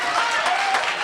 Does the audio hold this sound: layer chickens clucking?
no